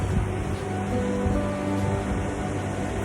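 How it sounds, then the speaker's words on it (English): Ocean waves break and wash continuously along a Northumberland beach on the way to Bamburgh Castle, a steady, moderately loud broadband surf roar with no voices. "Lovely soundtrack of the waves there as I walk along all the way to Bamburgh Castle"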